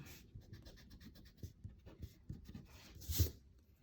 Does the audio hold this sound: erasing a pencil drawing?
yes